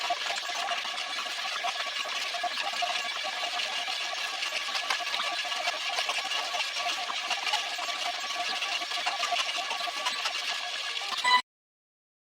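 A 3D printer building a print from two different plastics, sped up about 400 times, gives a continuous whirring mechanical buzz at moderate level that cuts off abruptly near the end.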